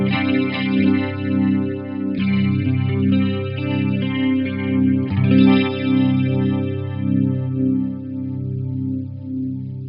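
Electric guitar run through an Electro-Harmonix Stereo Electric Mistress flanger/chorus pedal, strummed chords struck about three times and left to ring with a sweeping, shimmering modulation, close and loud without talk.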